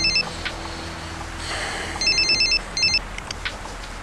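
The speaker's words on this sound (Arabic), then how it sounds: "تليفون." A telephone ringing in bursts of rapid warbling trills, three short rings spaced over a few seconds, moderately loud over low background noise.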